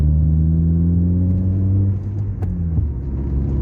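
A car engine rumbles steadily up close, its low hum climbing gradually while accelerating in gear during a driving lesson, then the pitch drops and settles partway through.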